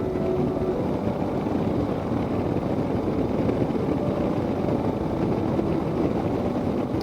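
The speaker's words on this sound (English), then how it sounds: "because the wind is banging me around." Wind buffeting a rider on a motorcycle with no tall windshield, a steady loud broadband roar and rumble that holds unbroken throughout, with no voices.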